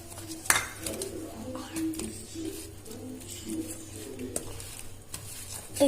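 Cake batter being mixed with milk in a bowl: soft, uneven scraping and stirring at low level, with faint clinks, a cooing bird and a muffled voice in the background.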